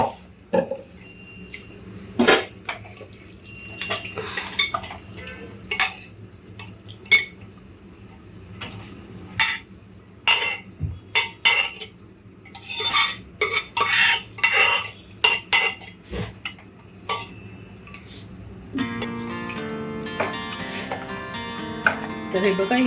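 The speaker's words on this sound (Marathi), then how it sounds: "आता हे मटण घालूया." Mutton and its cooking stock go into a home cooking pot, with a spoon clattering and scraping against the pot in repeated bursts. A steady frying hiss rises near the end, and a voice speaks now and then.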